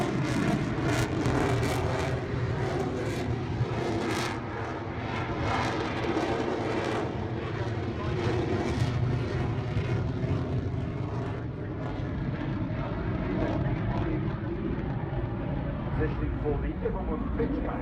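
A Hornet fighter jet flies a display at the 2016 Farnborough Airshow, its continuous distant engine roar rising and falling beneath a commentator talking over a loudspeaker throughout.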